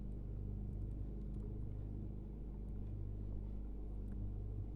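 Fiat car engine running at a steady low idle after starting, a close, even rumble with faint clicks and no voices over it.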